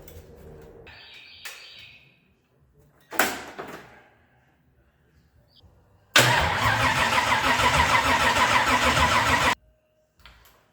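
An old Chevelle, unused for decades, cranks over on a starter wire: clattering knocks and a brief cranking burst come first, then a loud sustained churning of engine turnover for about three seconds before it stops.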